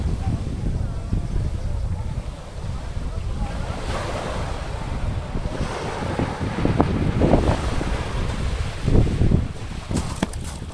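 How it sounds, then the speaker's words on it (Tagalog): Sea waves roll onto a beach of crushed coral on Capul Island, a steady loud surf wash with wind buffeting the microphone and a few stronger surges. "Yung dagat nila."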